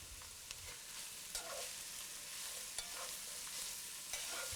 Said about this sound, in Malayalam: സവോള നന്നായിട്ട് വഴലുന്നത് വരെ ഇളക്കിക്കൊണ്ടിരിക്കണം.